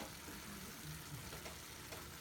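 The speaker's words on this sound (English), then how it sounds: "Go ahead and check the meat. Stir it around." Meat frying in a pan for street tacos while being stirred, a steady, soft sizzle with faint scraping, close and continuous.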